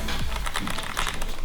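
Rapid clicky keystrokes on a Kzzi K75PRO gaming keyboard, a dense close patter of key presses sounding alone in a quick continuous run.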